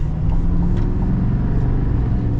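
A 2024 GMC Sierra 3500 AT4 heavy-duty diesel pickup on the move, giving a steady, loud low rumble of engine and road noise that fills the cabin without a break.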